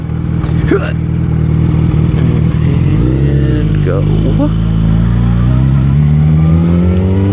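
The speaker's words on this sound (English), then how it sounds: "It's a voice activated motorcycle." A motorcycle engine runs loudly and steadily, then revs and climbs in pitch as the bike pulls away, with a brief spoken word near the start.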